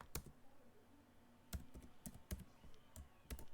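Keystrokes on a computer keyboard while Python code is entered, heard as sparse, quiet clicks in small bursts and single taps with pauses between them, close and soft.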